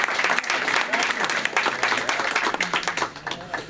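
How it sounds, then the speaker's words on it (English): A crowd at an NYPD promotion ceremony applauds with dense, steady clapping that swells and carries on for several seconds. "Big round of applause, please."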